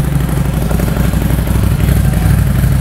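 A Ducati 803 motorcycle engine, a custom special, runs at a steady, loud idle just after starting, with a deep, even thrum and a light mechanical clatter throughout.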